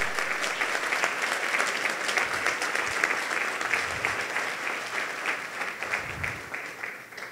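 A church congregation at a Sunday service bursts into sustained, dense applause that holds steady for several seconds before tapering slightly at the end.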